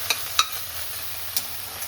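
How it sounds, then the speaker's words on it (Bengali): Neem leaves are stirred around a dry wok to drive off their water, giving a low scraping rustle with a few sharp clicks from the spatula against the metal, close by and otherwise steady. "আর একটু নেড়ে চেড়ে জলটা একটু শুকিয়ে নিচ্ছি"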